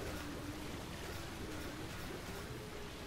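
Deluge water gun from Earth Defense Force 4.1 firing in a steady continuous rushing spray, like a dense stream of water, loud and unbroken throughout with no talk over it.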